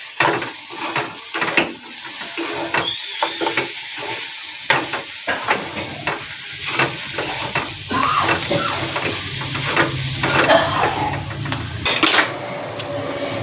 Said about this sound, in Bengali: দিয়ে একটু নেড়েই নামিয়ে নেব।